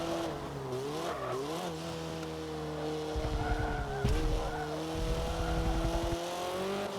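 A little Honda Civic race car in a racing video game revs through corners, its engine note rising and falling with bursts of tire scrub and squeal in the second half, continuous and close.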